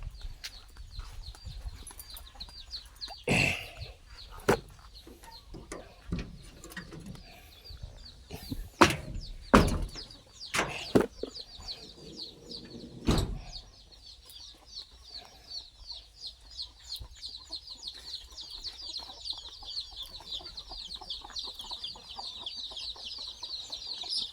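Chickens on a Thai farm cluck in a long, irregular run of calls that grows busier toward the end, with a few louder knocks and thumps nearby and no talking.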